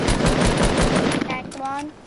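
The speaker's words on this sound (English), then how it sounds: "Now we're getting fucking shot. Who's shooting us?" Rapid machine-gun fire in a PS4 video game rattles loud and close in a steady stream, then tapers off as a voice briefly cuts in near the end.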